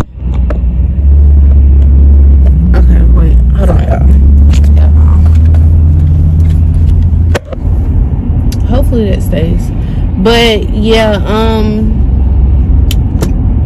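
Car engine and road noise rumbling steadily from inside a moving car, a loud low drone throughout while someone talks over it.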